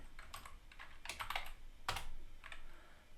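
A handful of quiet, close keystrokes on a computer keyboard, tapped in quick, uneven bursts.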